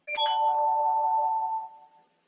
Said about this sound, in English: Only now you can hear the notifications coming through.